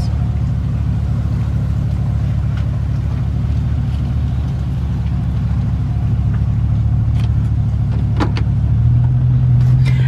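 A 1999 Chevy Silverado 1500 4x4 pickup with a 5.3 engine idles steadily while reversing, a constant low engine drone with a few faint clicks near the end and no talking.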